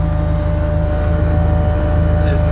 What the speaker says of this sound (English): So that's up to temp and idling on its own now.